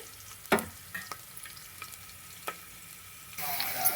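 Onions fry in a pan with a steady low sizzle, broken by a few sharp scrapes and clinks of a stirring spoon, then the sizzle swells louder near the end; no voices.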